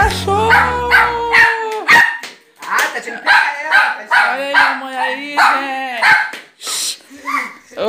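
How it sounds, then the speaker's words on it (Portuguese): A small dog barks and yips repeatedly in excited bursts close by at home, while someone talks over and between the barks. "Se eu não pegar ela no colo, ela não para de latir."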